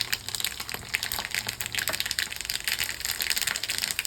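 Mustard seeds splutter and pop in hot oil in a kadai, a quick, dense run of small crackles and spits, fairly faint and continuous with no talk.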